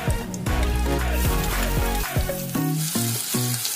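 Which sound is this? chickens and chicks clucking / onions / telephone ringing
onions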